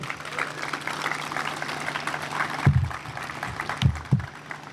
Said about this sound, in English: If we could have a little round of applause for Jerry.